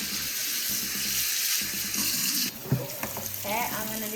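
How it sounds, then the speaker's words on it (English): Cold tap water runs steadily into a sink while a dyed wig is rinsed, a continuous hissing stream that shifts and splashes as the hair is moved under it. "I'm doing it in cold water because it said to wash it out in cold water"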